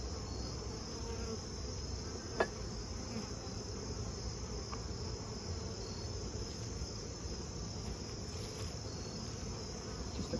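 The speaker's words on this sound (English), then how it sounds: "Just a beautiful colony of bees." Honey bees buzz around an opened nuc colony in an outdoor yard, making a steady, dense, continuous hum with one brief click partway through and no voices.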